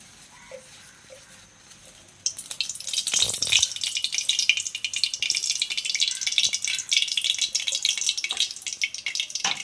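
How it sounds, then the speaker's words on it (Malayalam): Oil hitting a hot pan for a crab roast, quiet at first and then erupting into a loud, steady sizzle and crackle that keeps going with no talk. "കുറച്ച് ഓയിൽ ഒഴിച്ചു കൊടുക്കാം"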